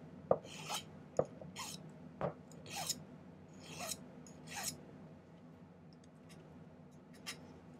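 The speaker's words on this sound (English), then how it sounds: "Use my file to start with." A hand file rasps against a silver wrap-around ring being shaped, with a series of short, quiet scraping strokes and faint taps at an uneven rhythm, close up in a quiet room.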